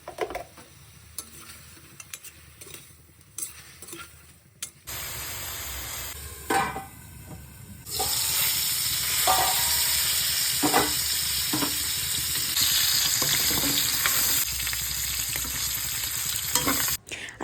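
Pork sizzling and frying in a pan with onions, a quiet crackle at first that turns into a loud, steady sizzle, broken by repeated scrapes of a stirring utensil.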